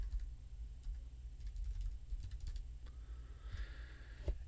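Steady typing on a computer keyboard, with soft rapid key clicks running throughout at a close, fairly quiet level.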